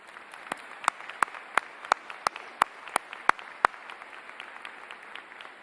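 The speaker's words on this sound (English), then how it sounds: "Please join me in giving another round of applause to the class of" Audience at a university graduation convocation ceremony gives a round of applause, heard as sharp, evenly spaced claps over a soft crowd patter that fades out near the end.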